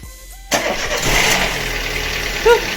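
A Citroën C4 1.4 16v petrol engine cranks and fires on its first start after a timing belt and water pump change, then settles into a steady idle, close up with a brief rise near the end.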